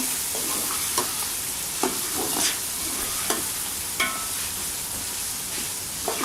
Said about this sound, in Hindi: ये देखिए चने हमारे तकरीबन भून रहे हैं।